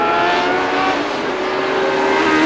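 A Ferrari Formula One car at the 1970 British Grand Prix, its high-pitched engine screaming loud and close in a steady sustained wail with slight shifts in pitch.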